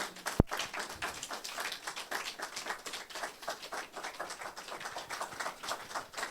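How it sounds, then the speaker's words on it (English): Warm applause from an audience greeting a group of storytellers at a live event, steady dense clapping of many hands, moderately distant and continuous after a sharp knock at the start. "we owe them a warm applause"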